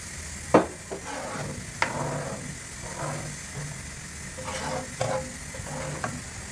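Pancit canton sauce with mushrooms sizzles gently in a pan while a utensil stirs it, with occasional sharp scrapes and clacks against the pan over a steady frying hiss.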